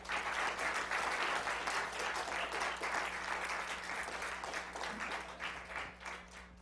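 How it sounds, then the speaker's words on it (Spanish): A lecture audience on a paleozoology talk applauds in a steady, dense wash of clapping that holds for several seconds and then starts to thin and fade, heard at a moderate distance. "agradecer la conferencia con un aplauso"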